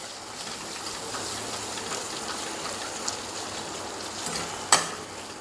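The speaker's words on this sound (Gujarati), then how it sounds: "બધા જ મસાલા સરસ સાંતળી લેશું." Spices, including coriander-cumin powder, sauté over a very low flame in a pan for a mung bean curry, giving a soft, steady, faint sizzle with a small utensil clink near the end.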